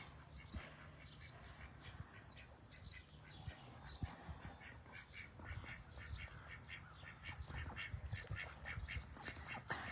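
Ducks quack repeatedly in scattered bursts, several birds calling close by over a low outdoor background, with occasional chirps mixed in.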